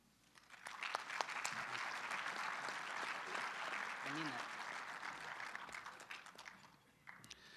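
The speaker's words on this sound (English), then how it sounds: "give them a big round of applause for all they do." Sustained applause from a banquet audience at a college hockey awards dinner, dense clapping that swells quickly and holds steady for several seconds before tapering off, with a few voices and a brief whistle mixed in.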